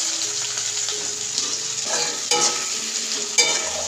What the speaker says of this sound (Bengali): তেলে পেঁয়াজটাকে ভালো করে নাড়াচাড়া করে জিরাতে হবে